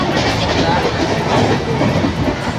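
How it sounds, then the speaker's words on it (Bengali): A passenger train runs on its rails, heard from inside as a loud, constant rumble with a rhythmic clatter of wheels that never lets up. "ট্রেনে ধরে পড়েছি।"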